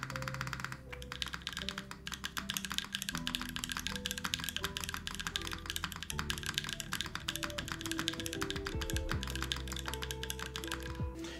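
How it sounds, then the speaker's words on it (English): Rapid typing on a tactile mechanical keyboard with a PBT spacebar, set on a bare desk with no mat, gives a dense, continuous patter of clacky keystrokes and occasional deeper spacebar thocks, close and fairly quiet. "See, with no desk mat, sometimes keyboards sound."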